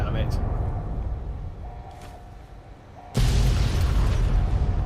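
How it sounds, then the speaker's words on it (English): Explosions in the video game Fallout: New Vegas: a rumbling blast fades to a lower drone, then a sudden loud, broadband burst erupts and keeps roaring, with a faint tone running underneath. "Still exploding quite a lot."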